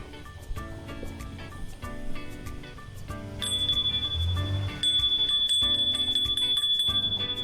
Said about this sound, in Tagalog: Kabit na ating doorbell.